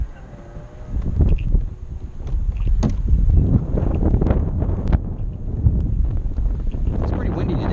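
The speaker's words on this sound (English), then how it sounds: "It's pretty windy today." Wind rushes steadily across the microphone while water splashes and knocks sound around a small Hobie kayak, with voices faintly present.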